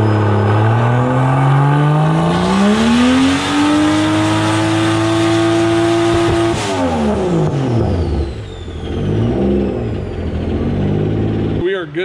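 A 2JZ-swapped Mustang on a hub dyno revs hard and close, its engine note climbing steadily, holding high, then dropping off as it winds back down to a rough burbling idle.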